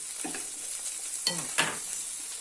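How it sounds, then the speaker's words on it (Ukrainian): Food fries quietly in a pan, a soft steady sizzle broken by a few stirring scrapes, close by and with no talking. "І підсмажимо трошки"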